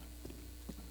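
Horse hooves in Breath of the Wild, ridden toward Hateno Tower: two soft clip-clop hoof strikes sit within a steady, constant game background.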